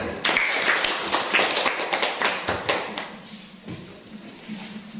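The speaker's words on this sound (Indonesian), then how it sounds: "Tepuk tangan dulu untuk semuanya" Classroom applause for a group of students, a short burst of quick hand claps and taps that thins out and fades over a few seconds.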